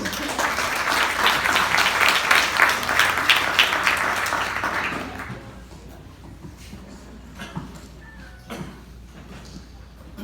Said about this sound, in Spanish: vamos a recibirle con un fuerte aplauso